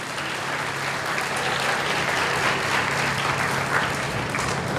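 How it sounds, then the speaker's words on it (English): At a charter school graduation, a crowd claps in a continuous, fairly loud wash of applause that stays even throughout the nearly five seconds. "Give yourselves a round of applause."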